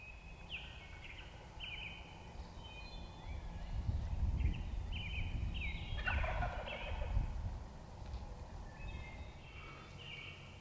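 A wild turkey gobbles repeatedly from a distance, its rattling calls rising over a steady outdoor hiss with scattered birdsong.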